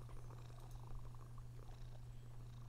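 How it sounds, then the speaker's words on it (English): A contented cat purrs softly and continuously in MTG Arena, a low, steady rumble that holds for the whole stretch and sounds close by, with nothing else over it. "it sounds like I have a contented kitty very near"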